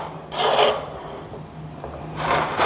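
Window trim with step-down profiles being pried loose, giving two short rough scraping rasps of wood on wood separated by a quieter pause.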